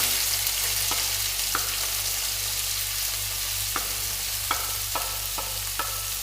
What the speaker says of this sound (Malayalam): നമുക്ക് സവാള കൂടി ചേർത്ത് കൊടുക്കാം.